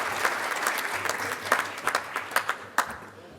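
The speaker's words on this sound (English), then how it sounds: "let's give a big round of applause this morning for our friend, Freddie Smirlis" An audience at a sports breakfast gives a big round of applause, steady many-handed clapping that swells with a few sharper, louder claps standing out near the end.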